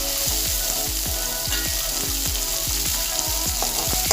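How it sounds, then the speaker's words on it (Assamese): Onion and chopped tomatoes fry in a hot karahi with a loud, continuous sizzle, crossed by regular stirring scrapes roughly every few tenths of a second. "কেৰাহীখন গৰম হ'লত মই তাককৈ পিঁয়াজ দি কটা বিলাহীখিনি দি দিছোঁ"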